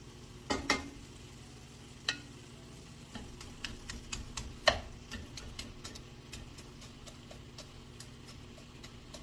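Food frying in a home kitchen pan with a splash of broth, a soft steady sizzle under scattered sharp clicks and scraping taps of a utensil, fairly quiet and close with no talking.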